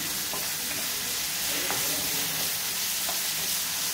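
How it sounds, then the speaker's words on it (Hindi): Ginger, garlic and chili paste frying with onions in a pan, giving a steady, close sizzle with occasional stirring scrapes throughout. "इसको प्याज के साथ हम भून कर देंगे।"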